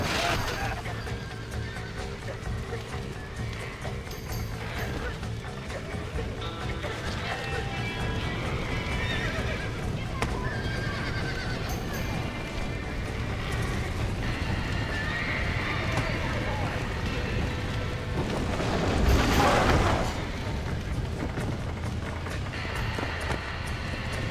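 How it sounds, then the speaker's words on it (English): Several horses whinny and neigh while hooves clip-clop steadily, a loud, continuous outdoor scene with people talking over it and a louder burst of neighing near the end. "Now get the horses out!"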